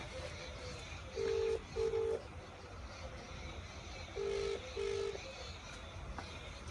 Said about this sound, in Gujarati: શંકરલાલનો ફોન કરવા દે